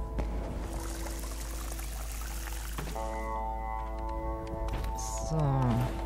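Water being fetched and poured in the game Crime Scene Cleaner, a continuous pouring and trickling sound under a low hum, followed by layered tonal game chimes and a rising electronic swoop.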